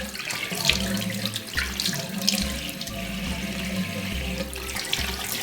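Tap water runs steadily into a bathroom sink during face washing, a close, continuous hiss and splash with small bursts of splashing and no talking.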